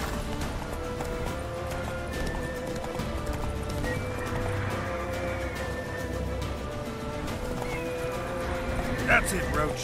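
Roach, the horse in the video game The Witcher 3, gallops with steady hoofbeats under a dense wash of game music and ambience, with a short whinny near the end.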